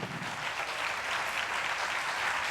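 A political audience applauds a newly named national secretary of EELV during his speech, a steady, dense wash of clapping that holds at even loudness throughout with no voices over it.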